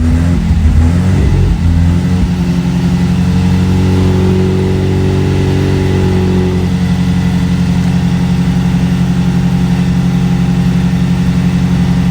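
A 1967 Sunbeam Alpine engine revs up sharply in the opening seconds, then holds a steady, loud, close idle with a faint whine. No one speaks.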